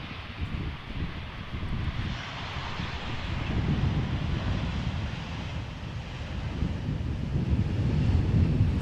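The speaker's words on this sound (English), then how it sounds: "Little wobbly on the landing. Corendon Airlines." A Corendon Airlines airliner landing at Amsterdam Schiphol, a steady broad engine roar with wind noise that swells slightly and holds, heard from a distance outdoors.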